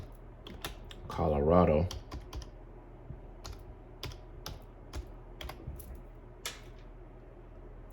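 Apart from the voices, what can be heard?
typing on a computer keyboard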